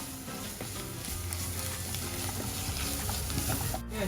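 Salt, turmeric, chili and coriander powder being sautéed in a pan for Kerala-style crab roast, a steady soft sizzle with faint scraping stirs, close and unbroken.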